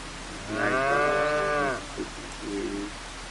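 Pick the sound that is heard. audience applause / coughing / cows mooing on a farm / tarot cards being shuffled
cows mooing on a farm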